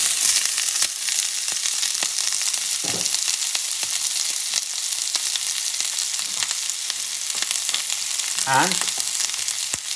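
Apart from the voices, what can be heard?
onion sauteing in a little oil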